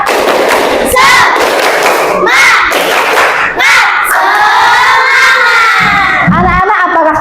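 Children in a classroom doing a rhythmic clapping chant as an ice-breaker, loud shouted chanting in bursts mixed with claps and thumps, close and energetic.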